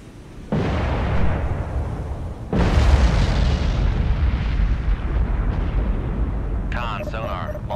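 A missile fired from an Arleigh Burke-class destroyer's vertical launch system in the submarine game Cold Waters: a loud roaring launch blast starts suddenly, a second surge follows and becomes a sustained heavy rumble, with a faint voice near the end.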